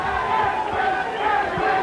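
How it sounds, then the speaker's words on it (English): Crowd at a boxing match between Clarence 'Bones' Adams and Edwin Santana roaring and cheering, a dense continuous rumble of voices without a break. "The crowd now has re-emerged into the fight"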